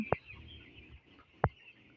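Two brief, quiet clucks from 15-day-old broiler chicks spaced about a second apart, with near silence between them.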